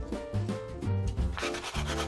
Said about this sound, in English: I take a sanding sheet to remove the extra napkin on the edges